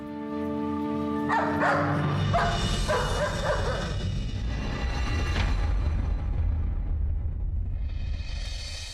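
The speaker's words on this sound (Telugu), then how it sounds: "కాళీ కాదు, కాళీప్రసాద్ గారు, మంచి విశ్వాసం గల కుక్క గారు." A dog in a Telugu TV drama scene gives a run of close, sharp barks and yips with whimpering in between, over a steady background rumble.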